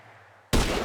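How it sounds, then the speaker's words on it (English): A sudden loud gunshot in Grand Theft Auto V bursts out of near silence and rings on with a sustained roar until the end. "And now I'm taking the shot."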